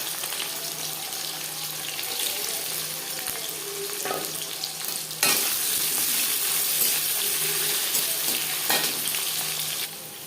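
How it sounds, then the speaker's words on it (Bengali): Chopped onion frying in hot refined oil for a homemade chicken biryani: a steady, close crackling sizzle that surges louder about halfway through and stays dense to the end, with no talking. "এবার দিয়ে দেবো পেঁয়াজ কুচি।"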